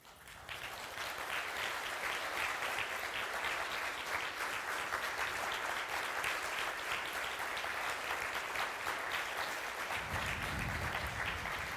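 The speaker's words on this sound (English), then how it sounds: "Could you stand up for a round of applause?" A conference audience at a closing plenary bursts into steady, continuous applause lasting over ten seconds, an even roar of many hands with no voices over it.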